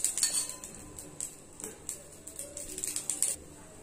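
Mixed-dal appe being flipped in an appe pan, a series of light metallic clinks and taps from a utensil against the pan, irregular and fairly close over a quiet background.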